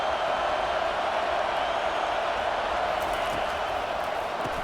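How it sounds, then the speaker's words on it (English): Roaring stadium crowd in a college football video game, Ohio State versus Penn State, a dense steady wall of cheering noise held loud and constant throughout. "Listen to this crowd just shaking the girders of this place"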